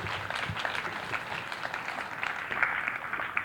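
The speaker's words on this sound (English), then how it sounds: "So please all take a round of applause for each other." Guild members at an outdoor All Guilds picnic give each other a round of applause, a modest spread of clapping from a fairly small crowd, heard at moderate distance and rather thin.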